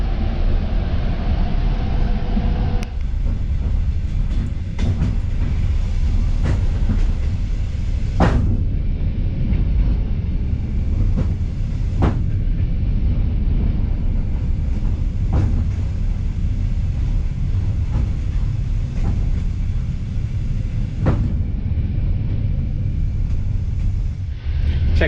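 An overnight train bound for Gomel in southern Belarus, near the Ukraine border, rolls along the rails, a loud steady low rumble heard from inside the carriage, punctuated by sharp clacks of wheels over rail joints at irregular intervals.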